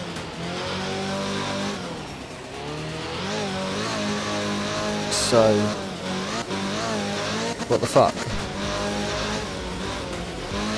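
Group 4 rally car in Art of Rally, driven on a wet German stage, with its engine revving loudly and steadily over about ten seconds, gear changes and brief tire noise around the middle, and a short spoken exclamation near the end.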